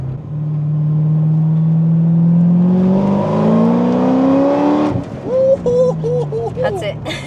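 Corvette ZR1 engine pulls hard under acceleration, its loud tone climbing steadily through a long gear before easing off, followed by choppy mechanical sounds and talk inside the car.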